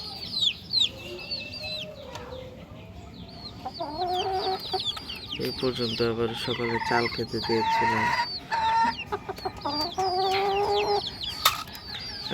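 Several chickens and roosters on a rooftop farm cluck and call in overlapping, busy bursts, fairly close, while a person speaks quietly underneath.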